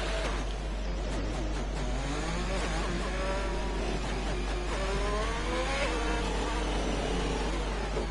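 Race cars idle and rumble together on a formation lap at Belgium in a racing video game, a steady dense engine drone with gently rising and falling revs, continuous and fairly loud throughout.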